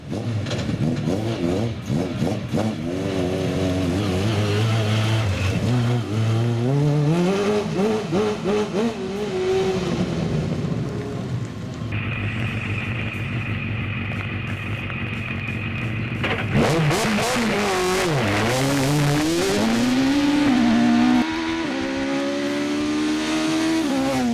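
Race cars start and rev at a hill climb test day in Vignieu, engines roaring loud and close with rising and falling pitch as they accelerate, nearly continuous over the whole stretch.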